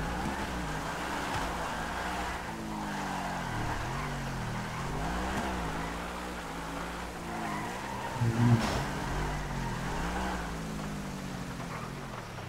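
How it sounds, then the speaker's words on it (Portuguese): Batmobile from Batman Arkham Knight, the Batmobile MK2, modded into GTA V, its engine droning steadily with rising and falling revs and a brief squeal of tires near the end. "isso aí é o carro do Batman, do jogo Arkham Knights"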